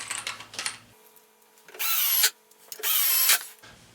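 A power drill fastens a cabinet to the base of a mobile tablesaw workstation in two loud, close bursts of whirring with a short pause between them, after some light handling sounds.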